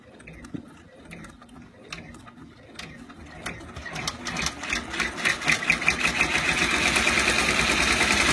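An embroidery machine stitches a facial outline in light blue thread, starting with scattered clicks and thumps and building into a fast, steady mechanical whir of needle strokes close to the mic.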